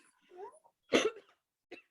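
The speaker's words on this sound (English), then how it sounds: "given how much you're coughing now" A short cough up close, preceded by a soft vocal sound and followed by a smaller second cough, with quiet gaps between.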